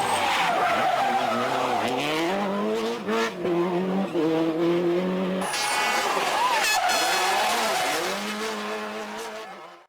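A Subaru rally car skids and slides on gravel, its engine revving and dropping in long loud sweeps as it is thrown left and right, tyres scrabbling close by for nearly ten seconds before easing off at the end.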